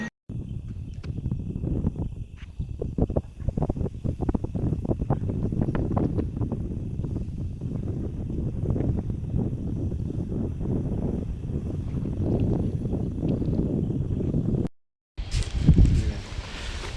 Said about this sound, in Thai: ลมแรงดี